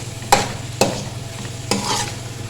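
Carrot halwa roasting in a pan, with a steady low sizzle and three distinct scraping stirs of a spoon through the thick mixture, close and clear with no talk.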